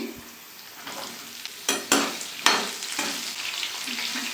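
Brinjal and dry red chillies drop into hot oil with a few sharp sizzling bursts, then sputter and crackle steadily as they are stirred in the pan.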